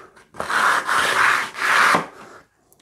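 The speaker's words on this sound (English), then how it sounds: "I'm just going to take the 120 that we finished the board with and very quickly" Sandpaper of 120 grit rubbing over the inlay dots on a guitar fretboard for a Les Paul Junior, heard as three close, even back-and-forth strokes with short pauses between, then quiet, and no talk.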